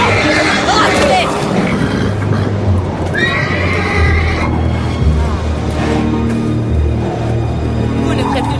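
A horse whinnies loudly nearby while hooves clip-clop on the ground, mixed with raised voices and a busy background.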